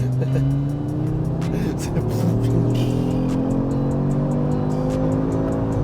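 A 2021 Audi RS3 engine drones steadily on the road as the car accelerates, with rising harmonic tones sustained throughout, loud and close, while people talk over it.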